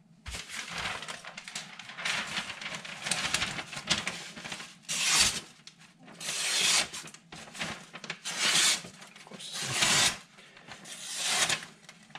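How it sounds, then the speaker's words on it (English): A kitchen knife wiped with a cloth after whetstone sharpening on a Miyagoshi stone: repeated close rubbing, rasping strokes in bursts, with short pauses between wipes and no talk. "Just gonna wipe off the knife."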